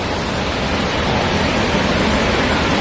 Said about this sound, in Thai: น้ำตกชั้นที่สามนะครับของน้ำตกเก็บสาวน้อยนะครับ